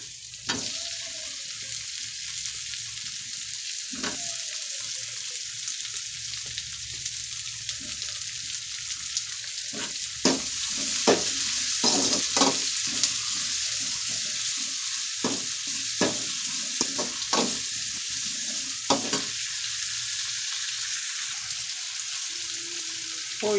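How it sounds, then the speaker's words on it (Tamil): Tomatoes fry in a pan for fish curry, a soft steady sizzle broken by repeated scraping stirs of a spoon, close and moderately loud, with no one speaking. "தக்காளி சேர்த்துக்க போகிறேன்"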